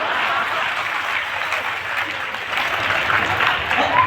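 Audience at a Shiv Mahapuran katha with a comic poet clapping together, a steady wash of applause that holds throughout.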